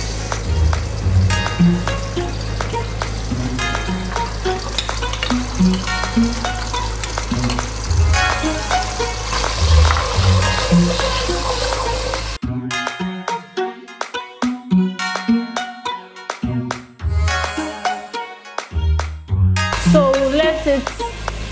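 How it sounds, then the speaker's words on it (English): Tomato paste frying in a pan: a steady, close sizzle runs throughout, broken by repeated clinks and scrapes of stirring, with a quieter, more clattery stretch near the end. "So that way it can fry more, because I hate it when you can feel the tanginess of your"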